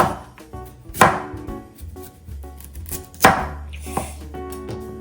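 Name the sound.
chopping carrot with a knife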